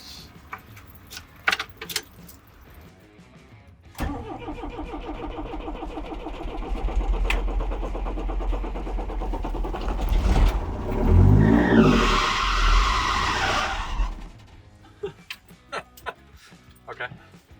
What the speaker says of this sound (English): so we can start the engine and make sure that everything works as it should